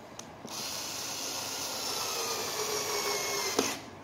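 Mr DIY Fixman cordless electric screwdriver driving a screw, a steady whirring motor drone held for about three seconds at close range, starting and stopping abruptly.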